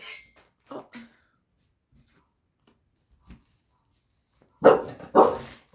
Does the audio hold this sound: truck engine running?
no